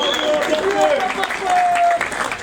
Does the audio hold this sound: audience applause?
yes